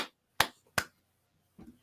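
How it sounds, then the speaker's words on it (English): A quiet golf clap: two sharp, isolated hand claps close together, then a softer, muffled third clap after a pause, in an otherwise silent room. "That's why I golf clap."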